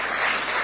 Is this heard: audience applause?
yes